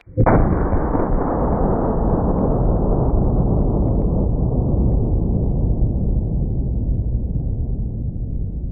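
A .500 Magnum revolver fired at a target, heard as one loud, close blast whose heavy boom and echo roll on for several seconds, fading slowly.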